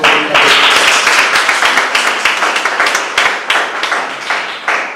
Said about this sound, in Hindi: मैं चाहता हूँ जबरदस्त ताली